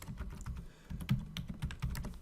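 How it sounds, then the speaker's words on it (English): Typing on a computer keyboard, a steady run of close, light key clicks with short irregular pauses and no talking. "you can either just start typing to replace"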